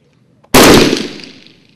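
A single loud gunshot from police sniper shooting practice by a Gegana unit, a sharp sudden crack that decays over about a second with no other sound around it.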